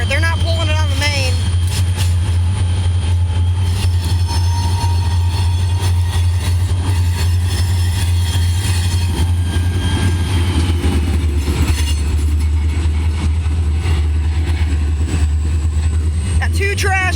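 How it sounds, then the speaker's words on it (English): Freight train with trash cars and tankers slowly backing into a rail yard, a continuous heavy rumble with metallic rattling, clanking and brief wheel squeals throughout; someone speaks over the steady train noise. "they're only backing the train into the yard."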